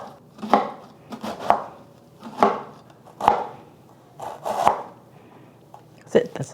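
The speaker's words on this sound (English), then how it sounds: "And then we're going to shred the cabbage." Knife shredding red cabbage thinly on a board, a series of crisp, evenly spaced chops roughly one per second, close and clear, with faint background voice.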